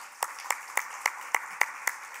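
Volunteers of the Desert Wildlife Center are applauded by a small group: about eight distinct, evenly spaced claps in a steady rhythm, close and crisp, with quiet gaps between them.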